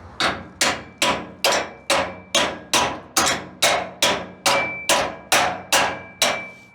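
Hammer striking a trailer suspension part to knock it free, about a dozen sharp ringing metallic blows at a steady even rhythm, loud and close with no talk.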